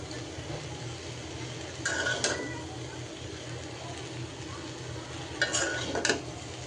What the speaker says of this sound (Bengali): ভাজিটাও নাড়াচাড়া করতে করতে ভাজিটাও সিদ্ধ হয়ে গেছে। এখন ভাজা ভাজা করে নিব।